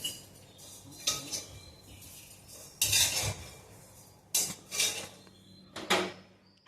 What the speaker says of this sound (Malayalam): വറുത്ത എള്ള് ഒരു പാത്രത്തിലേക്ക് ഞാൻ മാറ്റുകയാണ്